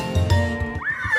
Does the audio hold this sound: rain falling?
no